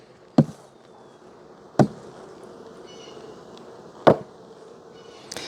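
Honeybees buzz in a low, continuous hum while being cleared from a hive super, punctuated by three or four sharp, loud knocks or taps of equipment at irregular intervals.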